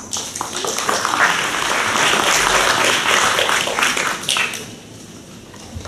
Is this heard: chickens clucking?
no